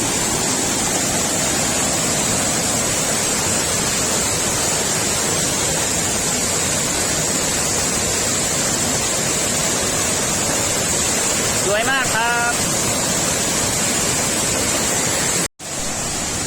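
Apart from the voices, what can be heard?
Tad Sae waterfall, Luang Prabang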